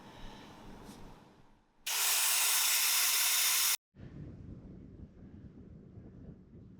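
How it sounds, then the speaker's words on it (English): Loud, steady rush of air hissing out of a tire valve while airing down an overland camper truck's tires, starting abruptly after quiet outdoor ambience, holding for about two seconds, then cutting off sharply. "I'm just gonna air down all the tires a little bit more"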